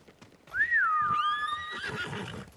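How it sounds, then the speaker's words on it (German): A horse in the video game Ghost of Tsushima gives a loud, rising and falling whinny, followed by a rough, noisy stretch that may be galloping hooves. "Ich mach das doch mal mit dem Pferdchen."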